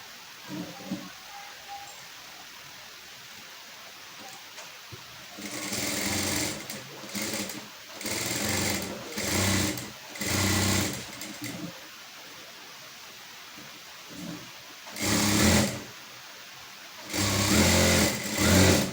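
A sewing machine runs in bursts as it topstitches along the side seam of a princess-cut garment with cups, several short runs separated by quiet pauses, close and fairly loud.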